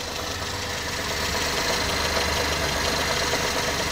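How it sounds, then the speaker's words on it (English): A car engine runs steadily at a constant, fairly loud idle with a rough mechanical hum and vibration, heard close up with no voices, on a car undergoing radiator work with electrical faults. "while it was revving, the engine just started running better."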